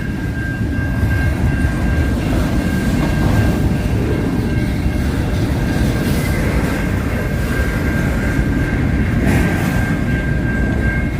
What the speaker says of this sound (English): we got 2 GE units. A GP38-2W and a GP9RM.